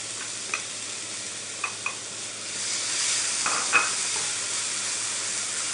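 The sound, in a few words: peppers added to a sizzling pan with garlic and oregano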